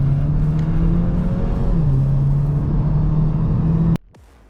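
A GAC Empow sedan in Sport Plus mode, exhaust valves open, drones with a steady engine and exhaust note that shifts pitch slightly, then cuts off abruptly near the end.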